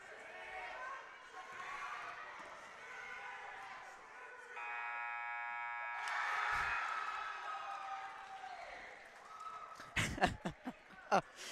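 A buzzer sounds for several seconds at a junior varsity basketball game, over crowd noise and talk, followed by loud sharp bangs and cheering.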